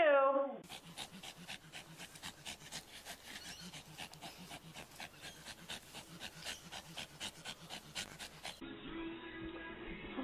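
A dog pants in a steady, rapid rhythm close by, with soft whimpers mixed in, while a person talks briefly at the start and end.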